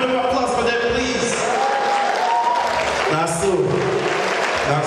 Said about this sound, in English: A hand of applause for them, please